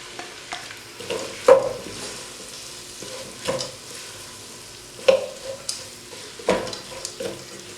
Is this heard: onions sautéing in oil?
yes